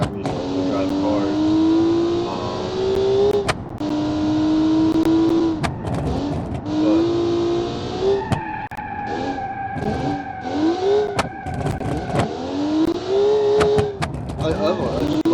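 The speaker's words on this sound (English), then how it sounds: "It also has that rattly backfire to it, which is phenomenal. I love that sound." A racing video game car with a front-wheel-drive setup revs and drops off throttle repeatedly, its engine note climbing in pitch with a rattly backfire crackle, loud and close, with someone talking over much of it.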